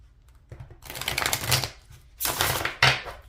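Tarot cards riffled and shuffled in two bursts of crisp, papery flutter with a soft snap at the end, close and alone with no talking.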